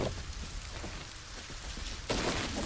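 Steady rain pattering over a cold outdoor scene in LEGO Fortnite, a constant broadband hiss that swells louder near the end.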